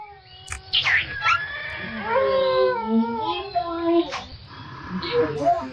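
A dog howls in the video game U.F.O.s, a long, wavering, mournful howl with a few yelps, clear and close over a soft background drone.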